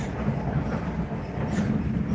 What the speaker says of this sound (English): Loop de Mac says you're using the local train, which stops at every stop.